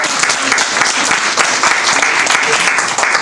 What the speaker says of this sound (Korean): 맞아, 박수.